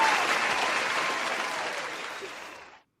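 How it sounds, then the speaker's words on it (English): An audience claps in a dense, lively burst of applause that starts strong and gradually thins and fades out before cutting to silence. "Round of applause."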